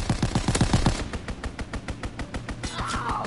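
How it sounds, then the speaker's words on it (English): Video game enemy strafing run: rapid bursts of machine-gun fire thumping close at first, then spaced single shots and a distant rumbling swell near the end. "Enemy strafing run inbound."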